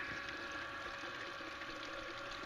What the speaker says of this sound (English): I'm still working on the water bar at this stage, and so it's a little uneven in the water flow.